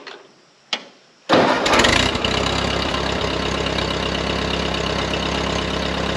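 A Ford 8N tractor driving a finish mower cranks briefly, then its engine catches and settles into a loud, steady running drone, heard alone with no talk.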